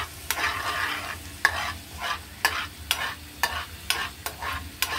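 Garlic fried in a pan as the base for adobong sitaw, stirred with regular spatula scrapes about twice a second over a steady soft sizzle, close and moderately loud with no talking.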